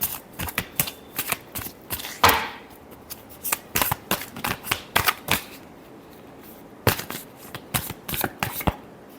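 Tarot cards being shuffled by hand in a series of quick, crisp riffling bursts and soft slaps, close and fairly loud, with no voices over them.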